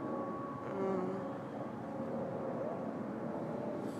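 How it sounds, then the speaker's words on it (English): An airplane passes overhead outdoors as a steady, broad, distant rumble that holds evenly throughout with no talking. "the sound that you hear now is an airplane"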